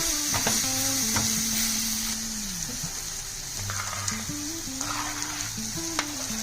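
Spices and red chili powder stir-fried in an iron wok for smoky roasted eggplant, a continuous loud sizzle with scraping stirs and faint clinks close by.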